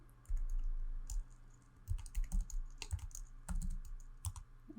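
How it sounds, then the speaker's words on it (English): Fingers tap on a computer keyboard in a quiet room, a quick run of close, soft clicks coming in small bursts. "I'm just going to type in"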